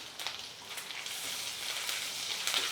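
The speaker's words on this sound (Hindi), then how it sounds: "ये सारी चीज़ों को बस आधी मिनट इस तरह चलाते हुए पकाएंगे" Chopped ginger, garlic and a green chili sizzle and fry in hot oil over a high flame, a steady close crackle with no voices.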